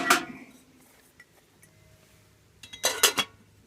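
A metal lid on a metal billy can inside an ammo can rocket stove: a sharp clink opens, a faint tap follows, then a cluster of rattling metallic clanks as the lid settles, close and bright over quiet background.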